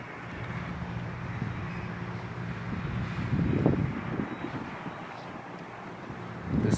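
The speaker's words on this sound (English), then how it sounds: "This wind is so nice in this heat." Steady outdoor wind buffets the microphone on a hot summer day at an apple-themed roadside attraction in Colborne, Ontario, with gusts swelling around the middle and again at the end.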